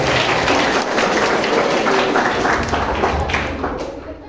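A crowd of students clapping at a school guidance session led by a police officer, dense, loud sustained applause that fades slightly toward the end.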